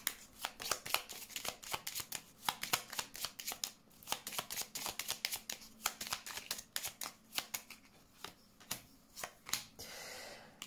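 Tarot cards are shuffled and laid out with quick, crisp riffles and flicks, close and fairly quiet, in irregular bursts that keep going throughout.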